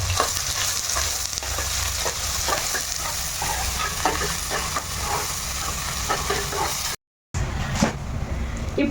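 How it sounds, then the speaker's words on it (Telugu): Onions and green chillies frying in oil in a pressure cooker for a mixed vegetable masala curry, a close, busy sizzle with spoon stirring and scraping throughout, broken by a brief dropout near the end before the sizzling resumes. "అందులోకి ఉల్లిపాయలు పచ్చిమిర్చి ముందుగా వేస్తున్నాను ఇప్పుడు ఇవి వేయించుకుందాం"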